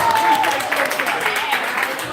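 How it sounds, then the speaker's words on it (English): A gathered audience at a discussion table claps for Ron Stewart, a light patter of hands heard under overlapping speech, moderately close and fairly brief. "Y'all clap for y'all clap for Ron Stewart."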